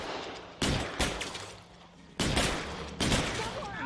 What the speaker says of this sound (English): It weren't kidding when they said it was a shootout.